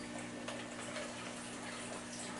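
Hot water is poured into the bottom of a fruit fly culture container, giving a steady, continuous close-up pouring and splashing wash that holds evenly throughout with no talking.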